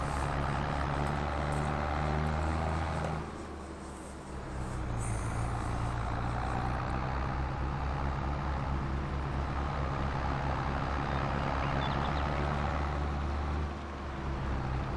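A farming game tractor engine runs steadily with a low droning rumble, dipping briefly twice before settling back into its continuous hum.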